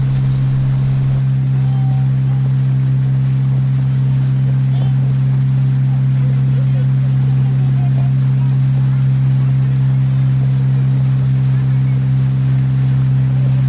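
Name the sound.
boat crossing the lake to Trunyan, Bali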